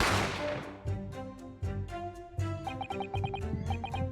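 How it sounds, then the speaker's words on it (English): A single gunshot rings out in the video game The Great Ace Attorney, a sharp loud crack at the very start that fades quickly. Game music and chiming effects follow. "You heard the gunshot, you mean?"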